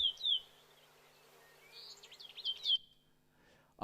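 Caspian terns call near their nesting habitat, giving a few faint, sharp high chirps in short bursts separated by quiet stretches, with no one talking.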